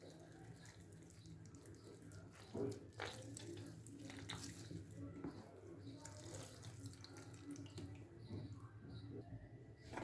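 Water runs steadily from a kitchen tap while soaked bread is squeezed out for vegetable pancakes, a close continuous splashing flow with a brief louder splash partway through.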